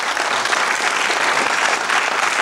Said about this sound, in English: A big round of applause for our champion and a challenger